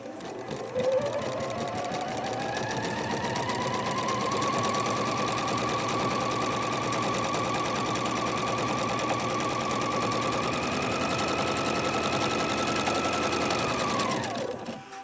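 A sewing machine chain-pieces quilt squares for a pet rag quilt, stitching corner to corner from one square straight into the next. It gives a steady, close, continuous whir that runs unbroken for about thirteen seconds and then stops.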